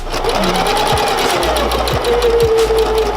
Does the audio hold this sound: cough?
no